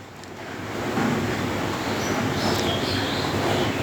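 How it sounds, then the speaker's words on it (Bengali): Chopped onions sizzle in hot oil tempered with cumin for a fish-head kanta chorchori, a dense, steady hiss filling the whole clip and swelling slightly after the first second, with no one talking. "তিনটে পেঁয়াজের কুচি দিয়ে দিলাম একটু নেড়ে চেড়ে নেবো"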